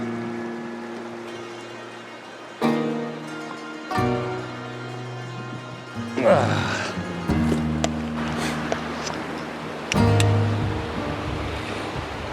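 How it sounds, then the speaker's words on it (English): Rushing water of the Pasayten River heard up close during a crossing on the Pacific Northwest Trail, a steady broadband roar with wind buffeting the microphone and occasional clatters and steps. "Crossing the Pasayten River."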